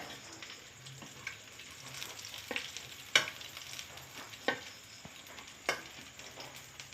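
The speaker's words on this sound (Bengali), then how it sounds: "একটু ভালো করে ভেজে নিতে হবে।" Ingredients for Jagannath mahaprasad being fried and stirred in a pan, with a steady soft sizzle and scattered sharp scraping clicks from the stirring, close and moderately quiet with no talking.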